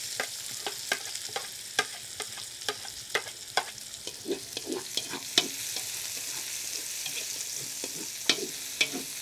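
Garlic and onion sautéing in hot cooking oil outdoors, on the way to a pork afritada, crackle quietly with irregular sharp pops and stirring scrapes over a low sizzle.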